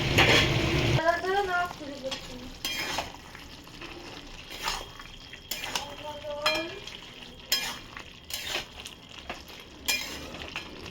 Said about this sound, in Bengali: দেখুন মাছটা দিয়ে ধিমি করে রান্না করবো